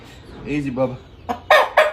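A black gamefowl rooster clucks a few short times close by, with a voice speaking softly over the sounds.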